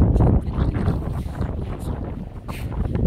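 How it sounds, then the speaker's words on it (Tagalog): Foggy wind blows hard outdoors, buffeting the microphone in loud, uneven gusts that rise and fall across the whole stretch. "Naririnig nyo ang hangin, yung fog."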